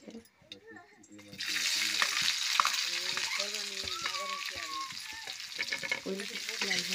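Mustard seeds crackle and sizzle in hot oil in a home kitchen pan, a steady loud frying hiss filling most of the clip with sharp pops, while someone talks over it throughout.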